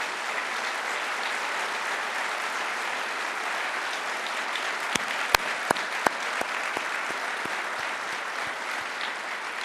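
Steady applause from an audience at a Turkish government ceremony announcing the domestic car manufacturers, a dense even patter throughout with a few sharper louder claps standing out near the end.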